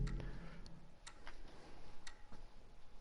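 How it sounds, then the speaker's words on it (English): A clock ticks steadily in The Last of Us video game. The soft, regular ticks sit about one second apart over a quiet, low background hum, and nobody speaks. "we got a ticking clock so far."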